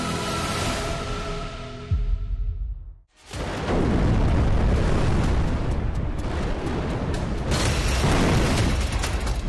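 Heavy, roaring explosions boom and rumble in Kyiv during the Russia-Ukraine war, cut by a sudden brief silence before another massive blast and sustained thunderous roar.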